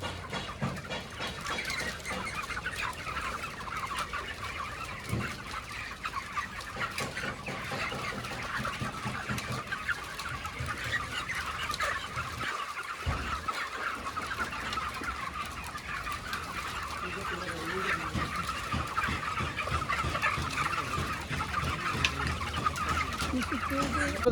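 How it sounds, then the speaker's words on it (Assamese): Chickens on a poultry farm cluck and call continuously while eating feed, a dense chorus of many birds at close to middle distance, with occasional faint human voices in the background. "আছো মুৰ্গী কিমান আছে আৰু কি কি কৰি আছে ইহঁতে, দানা খাই আছে কি না সেইটো আপোনালোকক দেখুৱাম"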